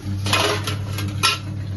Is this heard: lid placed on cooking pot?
yes